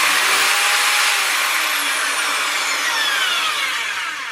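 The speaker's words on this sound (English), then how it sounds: "If you only have a hand drill with a fixed fast speed like this one," A fixed fast-speed hand drill bores into an acrylic sheet, giving a steady high, hissing whine with faint gliding pitch changes as the bit cuts, close and alone with no voices.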